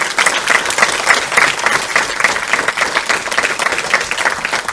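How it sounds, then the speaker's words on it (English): Steady audience applause at a school district candidate forum fills the space, many hands clapping loudly and continuously without pause throughout. "I'd like to just give them a little round of applause for their"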